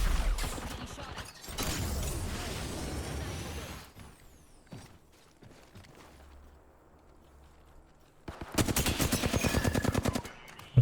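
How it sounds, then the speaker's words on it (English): Bursts of automatic gunfire in the shooter game Apex Legends: rapid rattling volleys at the start and a final sustained burst near the end, with a brief mechanical clatter and a quieter lull between them. "Getting shot at."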